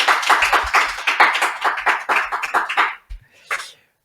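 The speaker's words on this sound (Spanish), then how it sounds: "Un aplauso para Robert" A small studio audience clapping for guest Robert Martínez, a brisk scatter of close hand claps that thins out and stops, followed by a couple of isolated claps.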